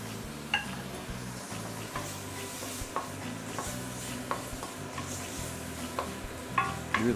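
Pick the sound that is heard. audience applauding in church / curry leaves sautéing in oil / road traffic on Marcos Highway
curry leaves sautéing in oil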